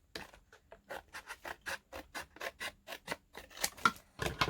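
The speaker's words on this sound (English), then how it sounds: "We're going to cut down here." Scissors snip through paper for a handmade embellishment, a steady series of about twenty crisp, close cuts in a quick regular rhythm, alone without talk.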